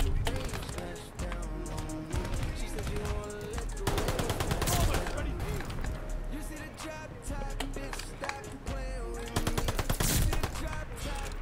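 Repeated bursts of gunfire in the WWII shooter Call of Duty: Vanguard, loud shots layered over a busy battle mix with a voice talking through parts of it.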